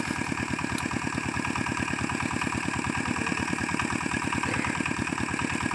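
An engine idles close by with a steady, rapid, even chugging pulse that holds at constant loudness throughout.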